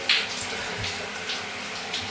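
A high-pressure shower head sprays water in a steady, even hiss, close and continuous, with no one talking.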